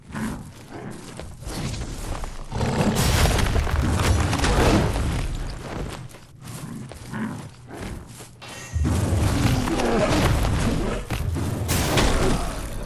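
In the video game Mortal Shell, an explosion with a shockwave hits as heavy booms and rumbling bursts that swell, drop away and surge again over several seconds, loud and close, with no voices.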